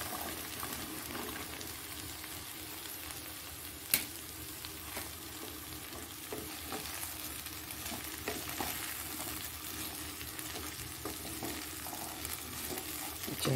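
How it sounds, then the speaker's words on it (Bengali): Yardlong beans and potatoes frying in a wok give a continuous soft sizzle and crackle, fairly quiet and even throughout, with one sharp clink near the start and occasional light stirring taps, no voices. "এটা হয়ে গেলে এইবার বরবটিগুলো দিয়ে দেবো।"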